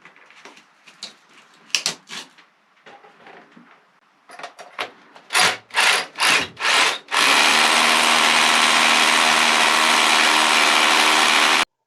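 A power SDS drill starts in a few short bursts, then grinds steadily and loudly into rock, a harsh continuous roar.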